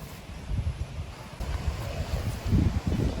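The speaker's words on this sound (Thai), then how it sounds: "ลมกำลังมาแล้วเนี่ย" Strong gusty wind outdoors behind a house over wet, soggy ground, buffeting the microphone with a continuous low rumble that swells and surges in bursts, close and fairly loud, with no talking.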